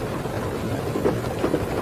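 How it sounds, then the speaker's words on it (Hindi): Heavy rain pours steadily with low rumbling thunder beneath it, a dense, continuous wash of sound with faint swells, used as a storm effect in a Hindi family story, with no voices. "देख कितनी तेज बारिश हो रही है"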